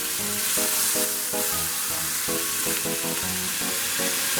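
Onions sizzling loudly in a hot pan as the first step of a vegetable ramen, a constant close frying hiss with bursts of stirring scrapes, no voices.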